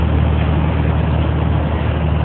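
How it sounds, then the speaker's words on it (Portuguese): A truck rumbles steadily with a deep, continuous low engine drone under broad mechanical noise, consistent with engine braking on a car-carrier rig on a road in the United States; loud, close and unbroken, with no talk. "Pegar os freios do motor aqui"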